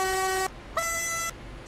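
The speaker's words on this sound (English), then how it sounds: "Terrible, terrible whistle." High-pitched train whistle in Train Sim World, two sustained shrill tonal blasts separated by a short gap, the first about half a second and the second slightly longer, clear and alone without talk.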